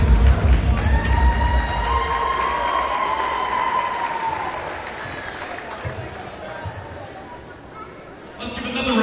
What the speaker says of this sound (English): Let's give another round of applause for your Miami High School cheer team